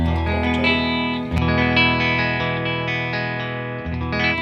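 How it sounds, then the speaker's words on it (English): An electric guitar on the bridge pickup rings out in sustained chords through a Deluxe Reverb tube amp's vibrato channel, with a clean, warm amplified tone and a touch of shimmer, played alone and up close. "clean tone through a deluxe reverb"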